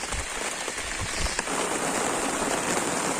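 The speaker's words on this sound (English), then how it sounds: "It's raining, man" Heavy rain pours down steadily outdoors in a wet camp setting, a dense continuous hiss of drops striking surfaces with a few low thumps of nearby impacts early on, no voices.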